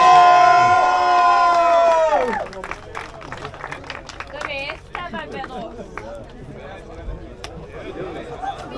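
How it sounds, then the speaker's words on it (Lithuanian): A crowd cheers and applauds at the podium of an autocross race at the Kupiškis auto-moto sports complex, following a stretch of loud music; the cheering stays steady and mid-distance, with voices talking over it. "Aplodismentai"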